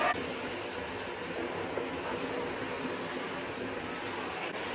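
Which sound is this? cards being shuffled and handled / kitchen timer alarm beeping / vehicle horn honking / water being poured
water being poured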